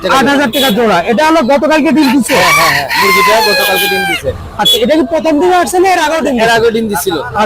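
Buttercup chickens crow and cluck at a busy fowl market, the crowing loud and repeated, mixed with clucking, while people talk throughout.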